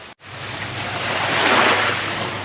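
Sea waves wash onto the Sicilian shore a few steps from a tent, a steady loud roar of surf with gusting wind across the microphone and no voices.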